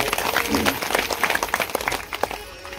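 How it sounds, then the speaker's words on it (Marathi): A crowd at the closing of a Shrimad Bhagavat katha religious gathering gives dense, continuous clapping close by, with voices mixed in the applause. "त्या दोघांसाठी एकदा टाळी वाजवा"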